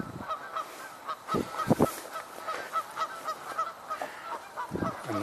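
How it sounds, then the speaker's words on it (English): A flock of geese flies past honking, a string of loud, close, repeated calls with a few stronger bursts in the middle, heard clearly over light outdoor background. "the geese just flew by again"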